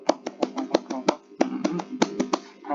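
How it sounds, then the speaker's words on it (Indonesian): Scout rhythmic clap chant (tepuk pramuka) in a scouting lesson: crisp, close hand claps in a patterned rhythm of quick groups, about a dozen sharp claps with short pauses between them. "Tepuk pramuka, prok prok prok, prok prok prok."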